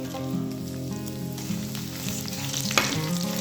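Dried red chillies fry in hot oil in a pan, giving a steady close sizzle with a few stirring scrapes and a sharp clink near the end.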